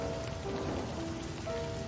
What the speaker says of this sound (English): waiting in the rain